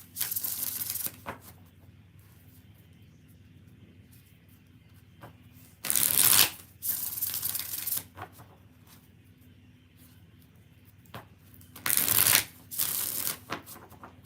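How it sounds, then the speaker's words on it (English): A deck of cards is riffle-shuffled several times, each quick rattling burst separated by pauses of quiet handling. "5 more shuffles for Nana"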